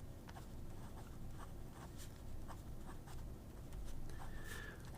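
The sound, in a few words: Parker Duofold fountain pen with 18 karat nib writing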